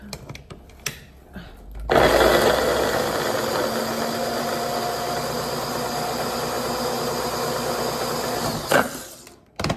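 A loud electric kitchen food chopper dices food in a sustained, close whirring roar lasting about seven seconds, preceded by a few light knocks and ending abruptly.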